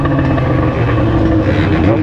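A convoy of motorcycles passes on the road, a steady engine drone holding at a loud level throughout. It is heard from a Jaguar XJ6 out on a drive, with a voice talking over it.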